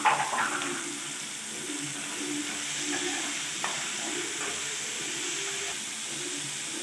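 Beans and carrots fry and sizzle softly in a pan as they are stirred, with faint scraping strokes over a steady hiss, quiet and close, with no talking.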